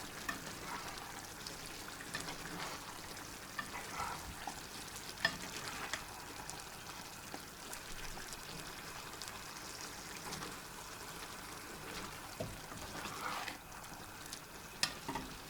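Onions stew and sizzle in a pan for Uzbek mashkichiri, a steady soft crackle with scattered pops and occasional light clinks, no talking.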